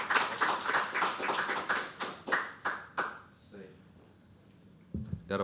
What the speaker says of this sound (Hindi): फिर से तालियां बजनी चाहिए यार नवीन भाई के लिए